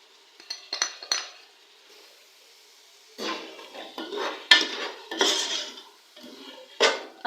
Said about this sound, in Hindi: अच्छे से मिक्स करेंगे मसालों को।